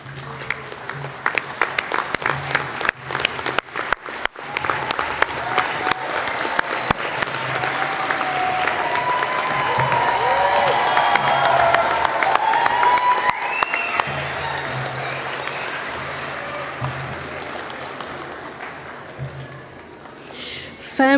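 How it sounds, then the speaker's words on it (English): Graduation ceremony audience applauding and cheering, a sustained broad wash of clapping that swells in the middle and slowly fades, with scattered voices and whoops. "round of applause"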